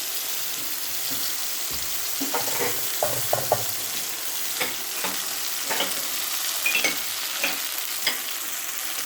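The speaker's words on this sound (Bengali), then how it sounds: "একটু কালো জিরে ফোড়ন দিয়ে দিলাম। আমি সর্ষে পোস্ত, 2 রকম সর্ষে পোস্ত আর কাঁচা লঙ্কার পেস্টটা দিয়ে দিলাম।" Nigella seeds, green chilies and mustard-poppy paste fry in hot oil, giving a steady close sizzle broken by small pops and spatters as the pan is stirred, with no voices.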